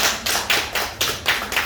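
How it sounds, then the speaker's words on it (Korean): Congregation applause in a Baptist church service, a run of loud rhythmic claps in close, evenly spaced bursts, with no voices over it. "앞으로 빠지지 말고 나오라고 박수 한번 쳐줘요."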